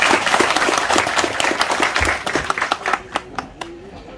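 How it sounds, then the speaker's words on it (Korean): Audience at a senior center opening ceremony in a rural Korean village claps loudly, a dense burst of applause close by that thins into scattered separate claps over the last second. "심찬 박수 부탁드립니다."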